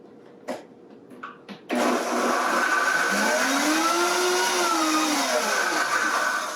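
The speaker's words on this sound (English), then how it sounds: "put this all into my Vitamix, my high-speed blender here, and we're just gonna go ahead and get this combined" A Vitamix high-speed blender combining sauce ingredients including coconut milk, a few clicks and taps and then a loud, steady roar that runs continuously with a shifting whine as the contents churn.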